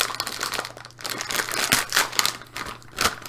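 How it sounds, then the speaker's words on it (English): A plastic bag of marshmallow hearts crinkles in close, irregular bursts of crackling and rustling that rise and fall with no voices. "Sorry about all the crinkling."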